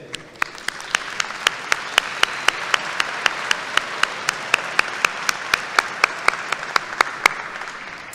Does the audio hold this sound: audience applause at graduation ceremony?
yes